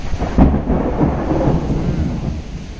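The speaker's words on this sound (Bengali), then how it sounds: "গুরুম গুরুম করে মেঘ ডাকছে" Loud thunder rolls through a rainstorm, with a sharper crack early on and then a steady, continuous rumble over falling rain.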